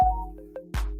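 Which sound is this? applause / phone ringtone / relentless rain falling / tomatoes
phone ringtone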